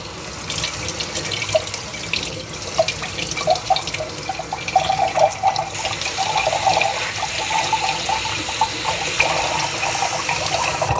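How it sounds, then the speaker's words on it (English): A kitchen tap runs steadily while blueberries are rinsed under it, giving a loud, continuous splash and trickle with faint shifting drips as the water hits the fruit and sink. "I got to rinse off these blueberries quick."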